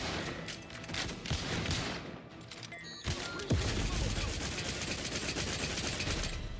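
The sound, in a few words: automatic gun firing in the video game The Outer Worlds 2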